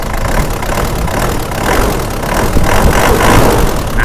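A diesel engine with a turbo idles steadily nearby, a continuous low rumble with a faint rhythmic knock from the pumping injection pump, and no voices.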